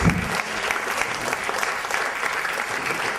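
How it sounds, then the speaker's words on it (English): Lecture audience at the Raymond Williams Lecture breaks into sustained applause, a dense, even roar of many hands clapping close by, continuing steadily for the full stretch. "Your applause preempted my comments"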